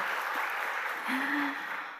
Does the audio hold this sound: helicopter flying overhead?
no